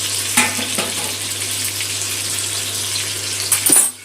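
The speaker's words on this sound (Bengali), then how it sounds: "মশলা বাটতে বাটতে এদিকে পটলটাও ভাজা হচ্ছে।" Pointed gourd (potol) frying in a pan gives a steady, fairly loud sizzling hiss with a low hum underneath and a couple of brief clatters near the start and end.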